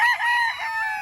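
A rooster crows once in a long, loud, close call that holds steady for about a second, with no other sound around it, at a small farm among about twenty-one chickens on a hillside.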